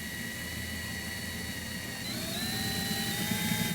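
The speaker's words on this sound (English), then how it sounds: "I'm gonna attempt to drill my own holes through this metal plate." A drill runs steadily through a metal plate with a high whining tone that climbs in pitch partway through, close and continuous.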